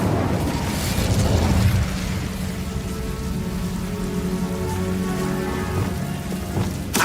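The Incendio fire spell from Hogwarts Legacy erupts in a dense, rain-like crackle and hiss that holds steadily for several seconds, with a heavier rumbling burst at the start and a brief flare near the end.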